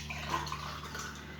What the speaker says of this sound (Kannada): 3-4 ಲೋಟದಷ್ಟು ನೀರು ಹಾಕೋಣ